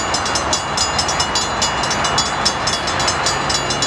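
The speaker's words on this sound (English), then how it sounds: "here comes another train." A passenger train rolls past a trackside spot at Rancho San Juan Capistrano, making a loud, steady rumble and hiss with rhythmic clacking of wheels over rail joints throughout, close to the listener.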